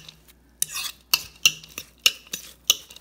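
Chopped basil is stirred into a meatball mixture in a bowl with a utensil, giving a series of close, sharp scraping clinks roughly every half second with quiet pauses between.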